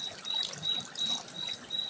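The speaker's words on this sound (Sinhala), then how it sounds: "දැන් පරිප්පු එකට වතුර දාලා ලිපේ තියාගෙන ඉමු" Water trickles in a thin, faint pour into a pot of lentils (dal) for a rice and dal curry, a brief quiet dribbling with no talk.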